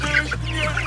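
Chickens and larger chicks cluck in a short, close burst as feed is scattered on the ground in a farmyard, a steady low hum underneath.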